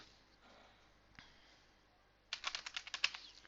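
Someone types on a computer keyboard, a quick run of close, crisp key clicks after a quiet stretch with faint breathing, no talking over it.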